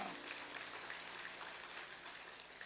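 A Korean church congregation claps in praise during Sunday worship, a dense, even patter of many hands heard at a moderate distance without a break.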